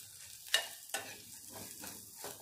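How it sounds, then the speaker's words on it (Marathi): Sliced coconut, cashews and peanuts are stirred in a pan, giving a soft continuous scraping sizzle with two sharp clinks of the spoon against the pan near the start, then gentle rhythmic stirring strokes, close and fairly quiet. "आता याला आपण इथे छानपैकी परत मिक्स करून घेणार आहोत."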